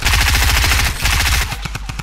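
Loud, rapid automatic gunfire in a video game, a fast even burst of shots for over a second, then a few slower, separate shots trailing off.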